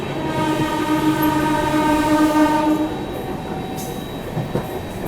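A passing Gondia Barauni Express train sounds a long, steady horn, loud and close, fading after about three seconds into rumbling rail noise with a brief clatter near the end.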